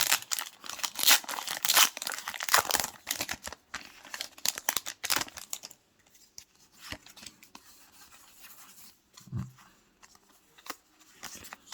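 Pokémon booster packs from a Radiant Destinies collection box being opened: loud, close foil-wrapper crinkling and tearing for the first few seconds, then quieter intermittent rustles and a soft thump.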